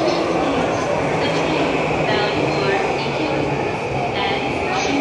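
Loud continuous rumble and hiss of a train arriving at a Tokyo station with a steady mechanical drone, heard up close with a voice faintly mixed in.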